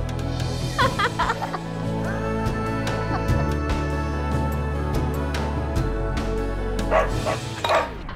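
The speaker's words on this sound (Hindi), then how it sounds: "कुत्ता है, भगाओ" A dog barks several times at scattered moments over a steady background of music and voices in a TV drama scene.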